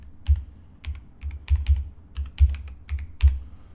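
Keys clack on a new computer keyboard in a quick, uneven run of about a dozen close, crisp strokes with short pauses between them. No one speaks.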